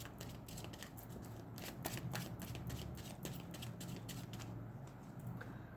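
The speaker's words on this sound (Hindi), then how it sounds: "final shuffle" A deck of tarot cards is shuffled close up, a quick run of crisp riffling flicks and soft slaps for several seconds, fairly quiet with no talking.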